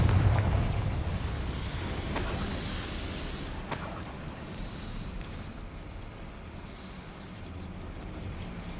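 A Confringo fire spell from a Harry Potter video game goes off as a deep rumbling blast, with sharp bursts early on, then a rolling roar that slowly fades into a steady wash.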